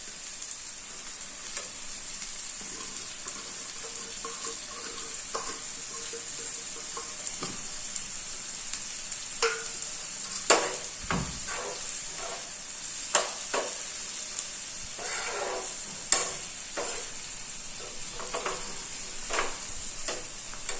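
Tomato and onions fry in a pan for pasta, with a steady, close sizzle broken by frequent scraping and clacking stirs that come one after another at an uneven pace, and no voices over it.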